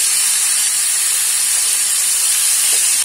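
Green chillies, garlic and onion sizzle in a hot pan with a loud, steady, hissing fry that stays constant throughout, with no voices.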